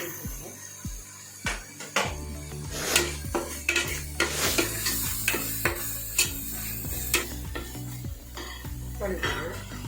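Tempering vadagam and small shallots frying in a pan for a Madurai-style fish kuzhambu, with a steady sizzle under repeated scraping clinks of a metal spoon against the pan at an uneven rhythm, close and fairly loud.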